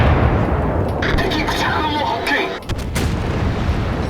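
Battleship naval guns firing shells in World of Warships, deep booming blasts and rumbling impacts under a steady game din, while someone talks over them.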